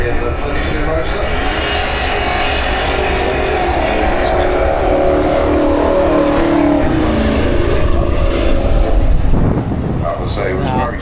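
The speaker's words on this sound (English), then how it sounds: "the little 350 small block in the 32 Roadster" A 350 small block V8 in a 1932 Roadster makes a drag racing run at Santa Pod, its loud, dense engine roar sustained throughout with a shift in tone near the end, speech mixed in underneath.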